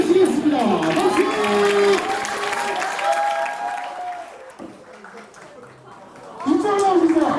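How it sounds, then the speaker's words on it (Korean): A school audience of youth football players claps and cheers to welcome a guest, a clattering burst of applause mixed with voices and some laughter that fades midway and then swells back up near the end. "우리 이영표 선배님을 큰 박수로 모시겠습니다."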